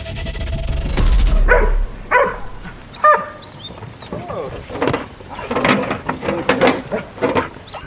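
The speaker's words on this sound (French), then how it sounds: "Tiens, j'entends le chien qui arrive." A police detection dog barks a few times at a distance amid background noise and rustling, with brief sharp yelps breaking through.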